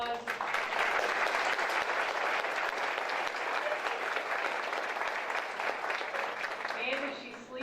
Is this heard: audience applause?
yes